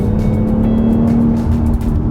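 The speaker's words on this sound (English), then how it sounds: "When you let off, you get that great burble or gurgle" A 2022 BMW X3 M40i exhaust burbles and gurgles as the throttle is lifted, a loud, close, continuous low rumble with a steady droning tone and faint crackling on top.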